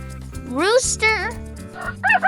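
Rooster crowing in a loud, close, rising and falling call over light background music, followed by a short clucking sound.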